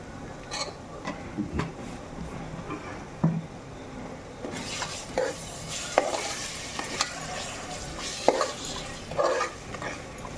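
Chicken with turmeric, chili powder and garam masala frying in oil while it is stirred, with a continuous sizzle broken by repeated scraping strokes and clattering pan knocks, no one speaking.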